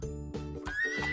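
A cartoon horse whinnies in the Kitty Meow Meow kids' video game, rising and bright over constant game music, lasting about a second.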